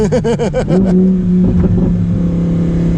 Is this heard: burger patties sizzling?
no